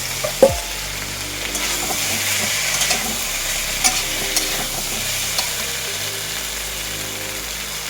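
Tomato frying in a pan with the spices for a thin singi catfish curry, a strong steady sizzle close up, with a sharp clank of the utensil early on and a few light scrapes after it.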